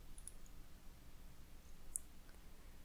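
A computer mouse clicks quietly in a 3D modelling program, giving a couple of faint, sharp, isolated clicks over a low background hiss.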